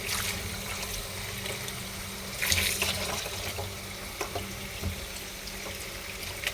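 Tap water flows into a sink as grapes are rinsed, a constant close splashing hiss with brief louder surges and light knocks from handling, no speech.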